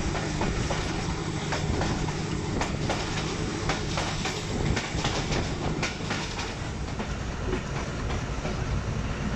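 Narowal Passenger, a Pakistan Railways train, rolls along with a loud, continuous rumble and a steady clatter of wheels on the track, as heard from on board, with no voices.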